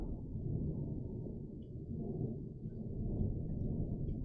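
Low, steady rumbling of thunder from a huge thunderstorm, heard from indoors as a continuous muffled roll that swells slightly, with no talking.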